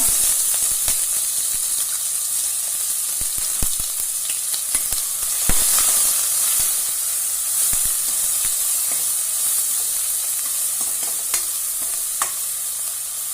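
Onion sautés in hot oil with bay leaves, curry leaves, cumin, asafoetida and turmeric, a loud steady sizzle broken by frequent spoon scrapes and taps against the pan.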